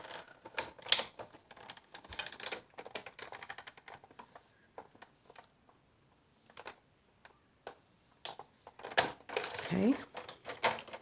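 Paper being cut out into a card frame with scissors for a St. Patrick's Day punch-art card, giving close, soft snipping and rustling in irregular bursts, with a person talking over it.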